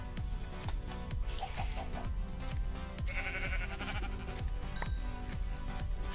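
A sheep in a video game bleats several times over looping game music with a steady rhythmic beat.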